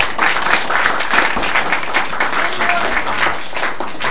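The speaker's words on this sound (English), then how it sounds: "if we could give her a round of applause." Loud, dense applause from a gathered group at an adoption finalization, continuous clapping throughout at close range.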